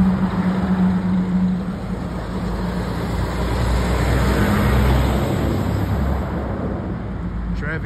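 Road traffic in Portland with semi trucks passing, a steady low rumble of engines and tires that swells and eases as vehicles go by, with no talk.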